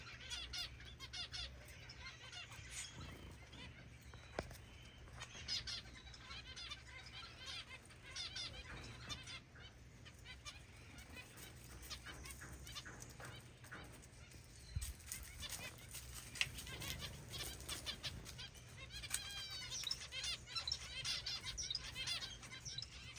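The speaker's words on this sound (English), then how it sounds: "Now we're feeding the finches" Many small finches chirp and squawk busily, with bursts of fluttering wings and light scratching sounds, close by and continuous.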